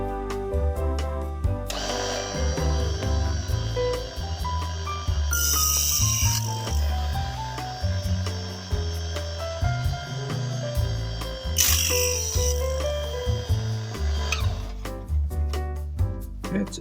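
An electric cutter slicing through wooden craft sticks gives a steady motor whine with two louder, rougher cutting bursts, heard over a tonal, melodic background.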